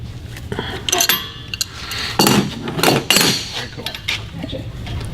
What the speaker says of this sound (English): then we use a crescent wrench to tighten it into place.